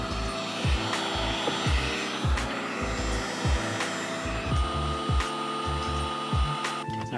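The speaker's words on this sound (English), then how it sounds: "Seems kind of crazy to be using a heat gun when it's about to be 100 degrees outside." A heat gun blows steadily while softening a plastic water pipe for an off-grid rainwater plumbing job, a continuous whirring hiss close by with repeated short knocks and shifts as the pipe is worked.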